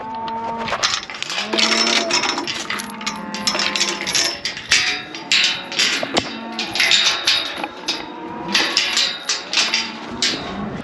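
Cows and calves mooing in a pen, several overlapping calls of varying pitch from close and farther off, with scattered metallic clanks between them.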